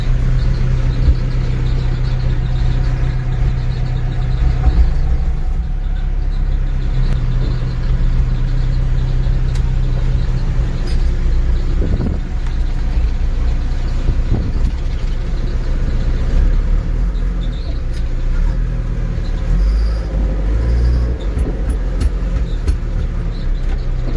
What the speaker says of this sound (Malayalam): ഇത് ന്യൂട്രലാക്കിയാൽ മാത്രമേ താക്കോൽ തിരിച്ചാൽ വണ്ടി സ്റ്റാർട്ടാവത്തുള്ളൂ.